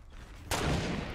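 A sudden loud burst of video game gunfire aimed at a tree cuts in midway and continues as a dense, sustained barrage with no talk.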